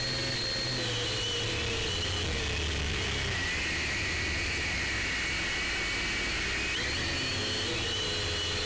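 An SJRC T40 camera drone flies with a steady high-pitched propeller whine that rises and falls slightly as it moves, over a constant hiss of outdoor air.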